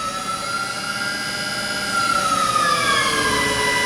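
A Tipton EFF-205FA automatic centrifugal finishing machine runs steadily, giving a loud, continuous mechanical whine with tonal lines that slide slightly in pitch as the pot speed changes, and it grows a bit louder partway through.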